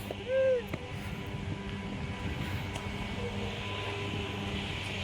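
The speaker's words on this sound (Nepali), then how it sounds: "अरे रेल आयो रेल" A train passes at a distance, a steady low rumble that holds for several seconds, with a brief tonal sound near the start.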